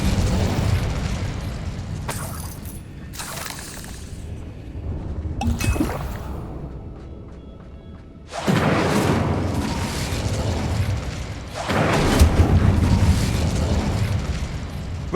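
Fire spell explosions in Hogwarts Legacy's magical combat: a rumbling scene punctuated by two loud, roaring blasts, each swelling and lingering for a few seconds.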